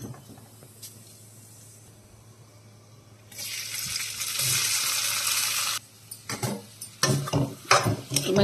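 Cumin seeds hit hot ghee in a kadai pan, setting off a loud, sudden sizzling hiss that holds for a few seconds and then breaks into scattered crackles and stirring sounds.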